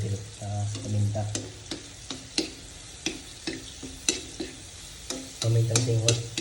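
Garlic fries in oil for pancit adobo with a close crackling sizzle. Sharp intermittent clicks and taps of a utensil against the pan are heard, along with low hums at the start and end.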